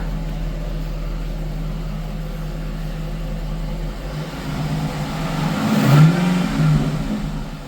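A car engine with a newly fitted aftermarket exhaust idles with a steady low drone, then revs up into a louder swelling roar near the end before easing back, with no voices.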